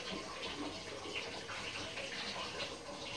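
A tap runs indoors with a steady, soft hiss of flowing water, heard faintly and continuously with no talk.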